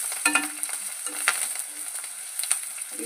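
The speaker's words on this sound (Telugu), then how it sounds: "కరివేపాకు, ఉల్లిపాయలు, కొత్తిమీర అన్నీ వేసుకొని" Curry leaves, onions and coriander fry for an egg fry with a soft, continuous sizzle, broken by a few brief stirring scrapes and clatters at fairly close range.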